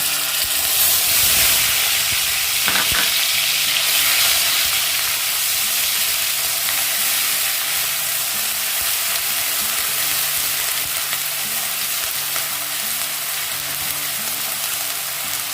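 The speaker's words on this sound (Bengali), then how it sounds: "পেঁয়াজটাকে খুব ভালো মতো ভেজে নিতে হবে।" Onion paste frying in a pan, giving a loud, steady sizzle and hiss that runs throughout, with a brief stirring scrape early on and no talking.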